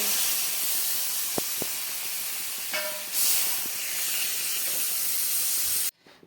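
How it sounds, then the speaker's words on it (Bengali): Water poured into a hot pan of mushroom curry sends up a loud, continuous steaming hiss that swells partway through, runs for nearly six seconds, then cuts off abruptly. "আমার কিন্তু এখানে কষানো হয়ে গেছে আর আমি জল দিয়ে দেবো"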